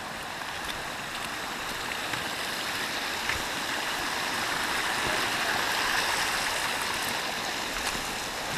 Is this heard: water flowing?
yes